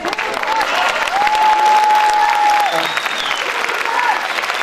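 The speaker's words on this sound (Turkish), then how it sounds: "alkışları görüyorsun" An audience applauds at a concert, sustained loud clapping with a long sung or held tone rising above it in the middle, steady throughout.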